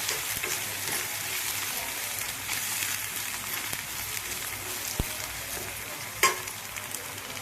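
Chili powder sizzling in hot oil in a pan for a raw prawn and gongura curry, a steady close frying hiss with a few light spoon taps and scrapes against the pan.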